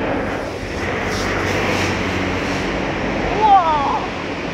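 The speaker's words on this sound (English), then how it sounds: "Actually throwing some more water." Water is thrown at a car wash on a hot day, a loud steady rushing splash that fills the whole stretch and briefly swells near the end.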